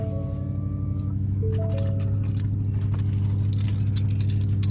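Keys jangle and clink close by over the steady low hum of an idling 2025 Ford Raptor R truck engine.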